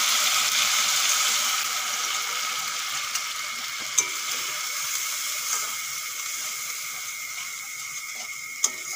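Water-mixed spice paste hits a pan of fried ginger, garlic and tomato, giving a loud, even, hissing sizzle throughout with a few sharp ticks of a utensil, no speech.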